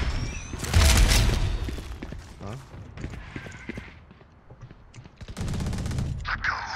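Bursts of gunfire from the video game Valorant: a heavy volley early on, scattered sharp shots and clicks in the middle, then another sustained burst, with a voice talking over the action.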